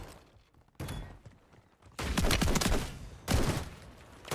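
Shotgun blasts in Call of Duty Warzone on Rebirth Island: three heavy, booming shots spaced over a few seconds, each with a long rumbling tail, and quieter game noise in the gaps.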